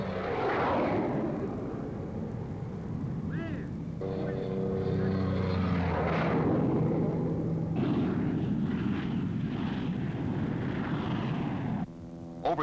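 A fast-flying compound aircraft passes low overhead, a loud continuous engine and rotor roar with shifting tonal whine that stays strong throughout, with a narrator talking over it.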